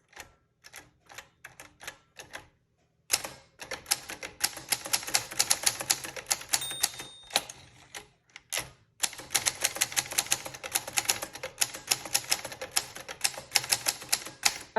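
Keys clatter on a 1957 Voss manual typewriter: a sparse run of separate strikes, a short pause, then fast, dense typing with little extra clicks, close and crisp, with no voices.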